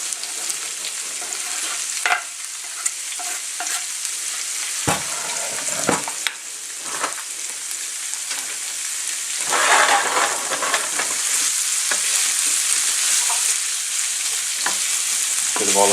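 Ham, bacon and fresh garlic fry in olive oil in a pan, a loud continuous sizzle with crackling spits and occasional stirring clatter, steady throughout.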